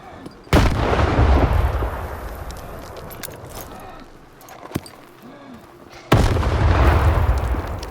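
In the video game Stalker 2, a grenade goes off twice, each a sudden loud close blast with a rumbling tail, separated by quieter gameplay ambience.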